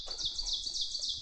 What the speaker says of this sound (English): Oh, there's the oven bird.